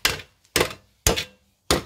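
Hammer blows on the exhaust of a Mazda Miata during a homemade exhaust modification, four loud, sharp metallic strikes spaced evenly, each ringing out briefly before the next.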